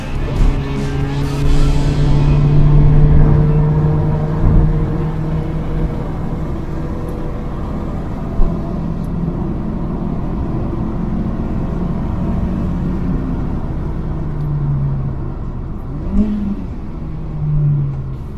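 A Hyundai Getz hatchback revs hard on a race track, its engine note climbing and falling through gear changes with brief tire squeals, loud and close throughout, with no talking.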